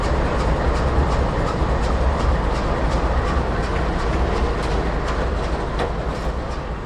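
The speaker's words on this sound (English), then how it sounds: "the conductor will get down from the train and visually inspect each car as they slowly roll by" Long freight train cars rolling slowly past on the port road rails, a steady loud rumble with rhythmic clickety-clack of wheels over joints throughout, close by and continuous.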